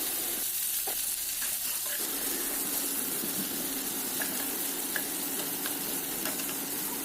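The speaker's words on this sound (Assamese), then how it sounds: "তেল গৰম হোৱাত মই দি দিছোঁ পিঁয়াজ আৰু কেঁচা জলকীয়াখিনি ভালকৈ ভাজি লৈছোঁ" Onion, green chilli, ginger and garlic fry in hot oil with a steady, close sizzling hiss, a few brief clinks and stirring scrapes early on, and no voices.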